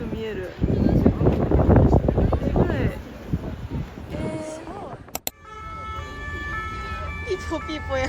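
An ambulance siren wails in the distance on a Paris street beneath wind buffeting the microphone, with a sharp knock near the end before steadier tones continue.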